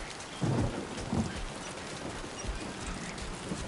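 Rain pours steadily in Death Stranding 2, with thunder rumbling in low, heavy bursts near the start and again around the middle. The downpour is continuous and moderately loud, and no one speaks.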